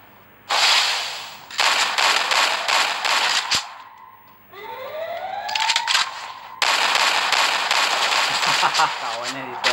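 Loud bursts of automatic gunfire in a shooting video game, several long rapid volleys broken by pauses, with a rising siren-like tone in between.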